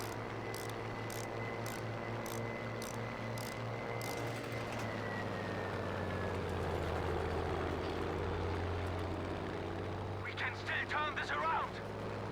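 A steady droning propeller plane engine in Battlefield V hums through the whole stretch with game effects and a voice speaking over it, a brief fluttering burst near the end.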